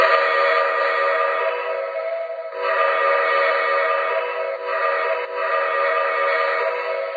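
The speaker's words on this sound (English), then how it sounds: "Here is the whistle." A model train's sound-effect steam whistle blows in long, sustained chime-like blasts, loud and close, with brief breaks between them.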